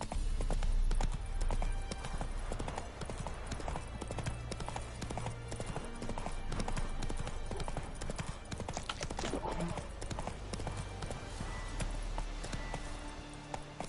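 Roach, a horse in The Witcher 3, gallops with a steady rhythmic clip-clop of hooves, close and loud, over continuous game music and ambient background.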